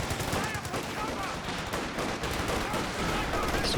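Machine gun fire rattles without a break in a Company of Heroes 2 3v3 battle. Dense, loud battle noise lasts the whole time and blends with other explosions and effects.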